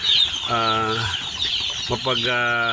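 A batch of lively day-old chicks peeps and chirps close by in busy overlapping calls, while a voice talks over them.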